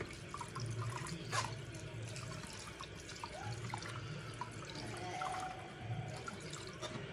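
Water runs steadily over homemade paneer curds as they are rinsed, a constant splashing wash with occasional small clinks, fairly faint throughout with no talking.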